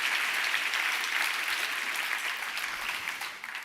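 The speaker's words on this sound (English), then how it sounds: "Another round of applause for that fascinating presentation." A conference audience claps after a presentation, a dense, even round of applause from a large crowd that stays strong throughout and tapers slightly at the end.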